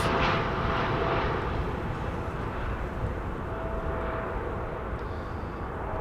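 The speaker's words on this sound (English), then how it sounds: "Lufthansa flight 988 arriving from Frankfurt, A319." A Lufthansa Airbus A319 arriving from Frankfurt gives a steady, moderately distant jet engine roar with a faint whine, slowly fading.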